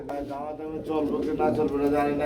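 At a pigeon market, a pouter pigeon coos low and throaty beneath someone talking close by.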